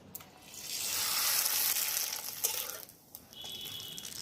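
Rice flour papad fries in hot oil with a soft, continuous sizzle and hiss that swells and then eases, faint and close, with a few small clicks near the end.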